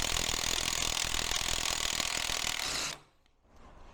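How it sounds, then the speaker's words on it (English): An impact gun undoing the slipper clutch nut on a Kawasaki ZX10R motorcycle, hammering loudly and continuously for about three seconds before cutting off, followed by quieter workshop background. "I can undo the nut with my impact gun"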